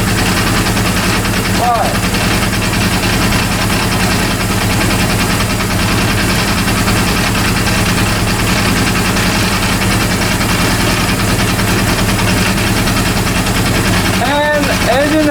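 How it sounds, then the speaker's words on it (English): A rebuilt Honda CB400 motorcycle engine idles indoors in a room, rumbling loud and unbroken with a rapid, uneven, knocking pulse that points to a strange mechanical noise. A voice briefly speaks over it. "engine has very strange sound, strange noise."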